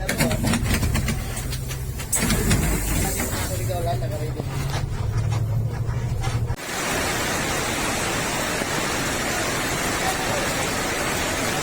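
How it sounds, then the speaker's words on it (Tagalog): Heavy rain pours down in Surigao, a dense, steady hiss that becomes a loud, unbroken roar for the second half. Earlier, a low rumble and what may be muffled voices sit beneath it. "Lakas ng ulan dito sa Surigao."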